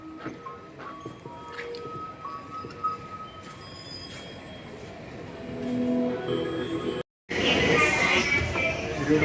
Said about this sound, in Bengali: ভিতরে দেখুন মেট্রো স্টেশনের ভিতরে